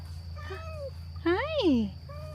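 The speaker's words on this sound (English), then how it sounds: "Meow." A cat meows outdoors in a garden during watering, with a short faint call followed by a louder, drawn-out rising and falling meow, close by, over a steady low hum and some nearby talk.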